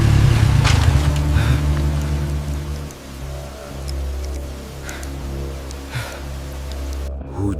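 Rain falls at night in a village setting, a steady hiss of drops with a low rumbling undertone. Faint patters and scattered thuds sound throughout, and it cuts off abruptly at the end.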